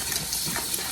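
Water splashes and trickles while a stone molcajete is rinsed out, a soft, steady wet rush with small splashy bursts close by.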